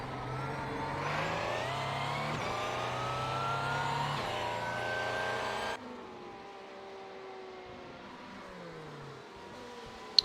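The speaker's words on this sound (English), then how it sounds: "Engine has a very unusual sound on that car." A race car engine in a racing video game during an endurance race at Interlagos: a steady, droning engine note that climbs in pitch through gear changes, then drops abruptly to a quieter, lower tone.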